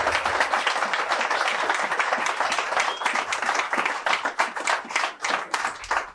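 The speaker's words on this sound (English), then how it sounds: "I would like you all to give a real round of applause" An audience gives a sustained round of applause in thanks to a guest, many hands clapping steadily and fairly loudly for about six seconds and easing slightly toward the end.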